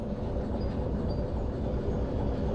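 A locomotive in the Derail Valley train simulator rumbles steadily under braking, a low, continuous rolling drone with faint metallic hiss and no distinct clatter, heard close and even in level.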